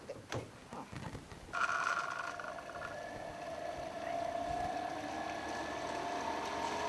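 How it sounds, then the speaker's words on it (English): A swimming pool pump switches on and settles into low-speed filtration, a steady mechanical hum with faint whine that starts after a few soft handling knocks and continues evenly, fairly close and moderate in level. "our pump now is running at low speed, and our filter is clean, and now it's running at filtration."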